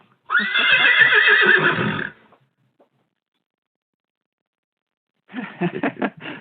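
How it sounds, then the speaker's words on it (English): A horse neighing sound effect: one long whinny up front, a silent gap, then a second shorter, stuttering neigh with breathy snorts. "That was Roy Rogers' horse, wasn't it?"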